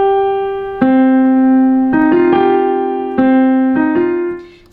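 A piano melody played with the right hand: single sustained tones, one note after another at a slow, even pace, played close and clear before fading out at the end.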